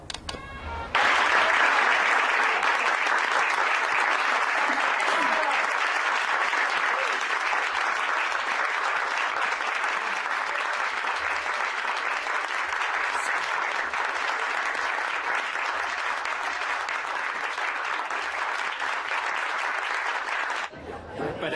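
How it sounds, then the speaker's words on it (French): A theatre audience applauds after a play, a loud, dense wall of clapping sustained evenly for about twenty seconds before cutting off abruptly, with faint crowd murmur beneath. "Hé, tu as entendu les applaudissements?"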